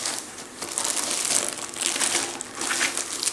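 The plastic cover of a canvas kit crinkles and rustles close by in continuous handling, with sharper crackles throughout and no speech.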